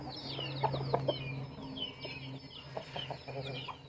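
Chickens clucking close by in a farmyard, a steady mix of hens and a rooster with occasional louder squawks, among double-body birds and breeder abras.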